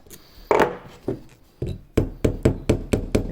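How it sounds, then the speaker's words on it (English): Metal pins are driven into a Warlord Titan miniature with a tiny sledgehammer: about nine sharp, close taps, a few widely spaced strikes first and then a quicker steady series. "If we get a bent pin while we're hammering, I can line it up."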